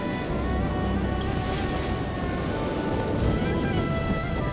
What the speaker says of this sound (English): I'm completely absorbed by the sound of the wind and churning waves